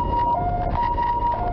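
An ambulance siren wails at an emergency scene beside a rural farm field, a loud steady two-tone pattern alternating between a higher and a lower pitch over a low engine rumble, with no voices.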